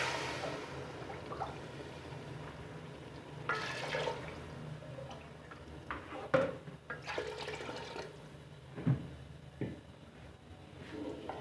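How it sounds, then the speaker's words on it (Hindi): Water pours into a cooking pot of prepared masala for biryani, a quiet splashing trickle with a few louder gushes and clunks, close and fairly faint. "अब इसमें पानी डालते हैं।"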